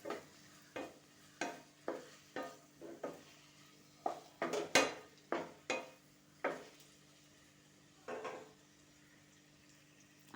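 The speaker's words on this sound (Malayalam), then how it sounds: "ഞാൻ കാണിച്ച സവാളയും പച്ചമുളകും തക്കാളി ഇടണം നമ്മൾ ഇത്ര ഇട്ടതിന് ശേഷം വീണ്ടും അതൊന്ന് വഴറ്റി കൊടുക്കുക" Onion, green chilli and tomato sautéed in a pan for okra stir-fry, a spoon scraping and clinking in a steady series of sharp strokes over a faint sizzle, with no talking.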